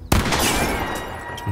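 A single sharp gunshot in The Quarry video game cracks out near the start and then rings off in a booming tail, close and loud.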